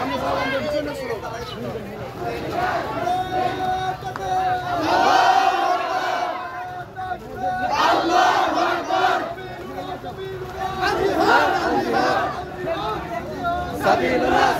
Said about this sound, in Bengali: সামনে স্লোগান দিয়ে সামনে স্লোগান দিয়ে পিছনে স্লোগান